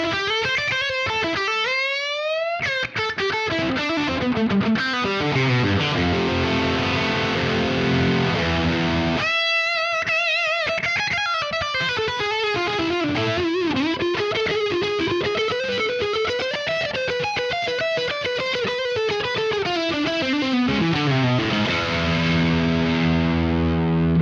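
An electric guitar played through a Neural DSP Quad Cortex amp modeler rings out with a distorted, effect-laden tone, moving through sustained chords and melodic runs with a brief pause near the middle, loud and alone.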